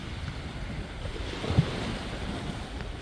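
Steady surf washes onto the shoreline at Maenam beach on Koh Samui, Thailand, in January, a continuous low roar mixed with wind buffeting the microphone and one brief thump, with no voices.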